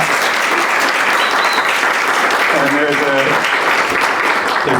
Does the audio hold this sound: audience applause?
yes